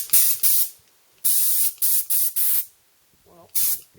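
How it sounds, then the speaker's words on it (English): An air hose blows compressed air in loud, close hissing blasts, first two short ones, then a run of four bursts, a quiet pause and one final blast. "Well, it's an air hose, it works."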